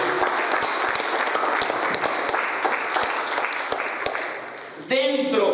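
A church congregation applauding during a Spanish-language service, dense clapping with sharp individual claps for about five seconds, followed by a voice speaking at the end.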